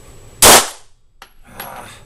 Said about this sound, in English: So I threw that shot, I missed my intended target.